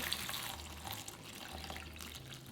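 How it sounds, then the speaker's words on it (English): Water poured into a bowl of dried shiitake mushrooms for rehydrating, a steady, close, moderately loud splashing flow that lasts throughout with no talking. "Pour in the water."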